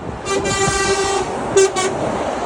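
A vehicle horn honks in two bursts, a longer toot then a short double beep, over steady road traffic rumble nearby.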